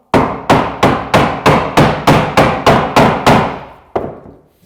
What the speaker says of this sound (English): Initially, just trying to weaken it with your hammer.